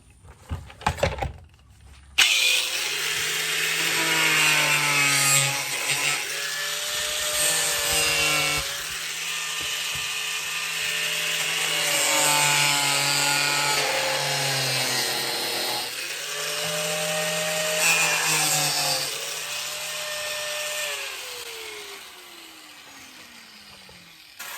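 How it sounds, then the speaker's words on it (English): An angle grinder cutoff wheel slicing into the plastic airbox of a Can-Am Ryker, a loud continuous high whine with its pitch rising and sagging as the wheel loads and frees up, then spinning down at the end. "I think this cutoff wheel on the grinder will give me a more quicker, cleaner cut than that little Dremel tool will."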